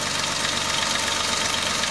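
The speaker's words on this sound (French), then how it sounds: "on va démarrer le moteur et vérifier l'étanchéité. Donc là le moteur tournant." A Peugeot 107 with a 1.0-litre 68 hp engine idles steadily with its hood open during an oil change, a dense, even mechanical whir with no talk.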